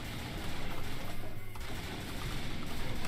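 Rapid gunfire in the zombie shooter Typing of the Dead, a dense stream of quick shots rattling continuously for a few seconds at moderate level with no speech.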